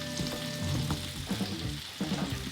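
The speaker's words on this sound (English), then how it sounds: "I think it's around about time now that we put the potatoes in so they can cook away." Potatoes frying in a pan with chorizo and onions, a close, continuous sizzle broken by a few soft knocks and shuffles of food being moved, heard alone.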